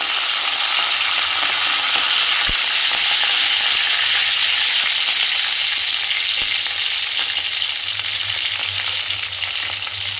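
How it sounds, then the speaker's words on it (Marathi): Curry leaves crackle and sizzle loudly in hot oil with cumin seeds and mustard seeds, a steady dense frying hiss that runs without a break from start to finish, with no voices over it. "त्याच्यानंतर तेलामध्ये कढीपत्त्याची पानं टाकून द्यायची."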